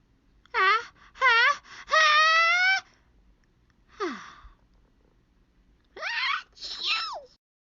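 Cartoon-style voices voicing a chain of exaggerated sneezes, drawn-out squealing wind-ups ending in bursts, about five in a row with short gaps, close and clear.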